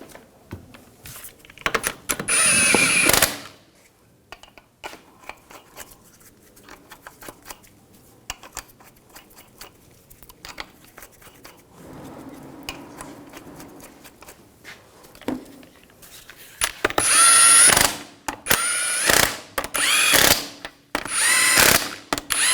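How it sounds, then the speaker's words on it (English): Power tool driving lug nuts onto a 2006-2010 Hummer H3 wheel, several short loud whirring bursts close by with quieter handling sounds and pauses in between. "Put the lug nuts on."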